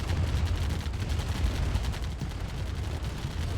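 Steady rattling gunfire in the C&C: Tiberian Dawn real-time strategy game as units snipe a rogue harvester, a continuous stream of rapid shots over a low rumbling battle bed.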